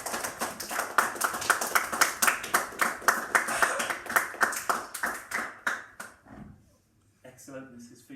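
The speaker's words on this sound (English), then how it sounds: "Round of applause, please." Award ceremony audience clapping as a winner comes up, a thinning spread of individual claps that fades out, followed by a voice speaking.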